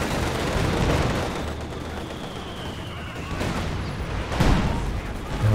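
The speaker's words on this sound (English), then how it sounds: "we've got all the artillery coming down, the Zis barrage and the Katyusha" Heavy artillery barrage in a Soviet-themed war video game, with Zis guns and Katyusha rockets firing and detonating in a dense, continuous rumble of overlapping blasts and booms, sharpest near the end, with a faint whistle of incoming shells.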